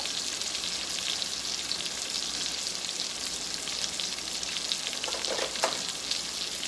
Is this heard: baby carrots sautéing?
yes